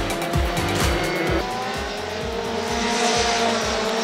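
Euroformula Open single-seater race cars at Mugello on a drying, greasy track with slick tyres, several engines screaming through rapid upshifts in quick succession, loud and close as they pull away.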